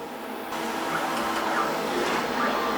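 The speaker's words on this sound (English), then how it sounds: "The easiest way for me to make a copper washer is to cut it out of 3mm copper plate using a plasma" A plasma cutter slices through a 3mm copper plate to make a washer, a loud steady hissing roar that starts with an abrupt jump and holds evenly, close and alone without talk.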